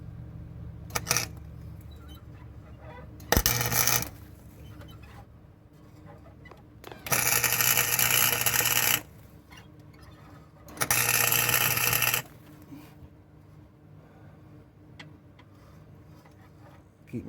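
Tack welding a bump stop onto a 2005 Chrysler Town and Country: four short crackling welding bursts, the longer middle two lasting about two seconds each, with quiet pauses between and no talking.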